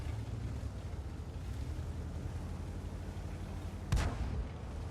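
A tank cannon in World of Tanks, a Polish tier 7 tank firing premium shells, booms once near the four-second mark, a sharp loud blast with a short tail over steady low engine rumble and wind-like game noise.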